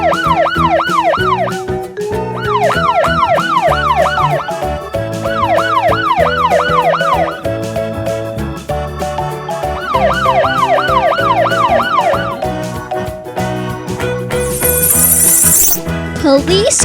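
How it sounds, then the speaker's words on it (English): A police car siren wails in a loud, repeating rising-and-falling pattern, cycling steadily with brief pauses between bursts, set against a busy musical backing with no voices. "Police car."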